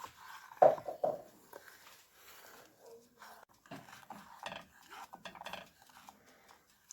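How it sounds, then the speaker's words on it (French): A spoon or whisk stirs a chocolate mixture in a pan on a gas stove, making uneven clinks and scrapes against the metal close by, quiet and with no talking. "on mélange juste sans arrêt"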